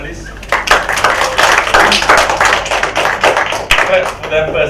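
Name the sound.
audience applause for a panel of speakers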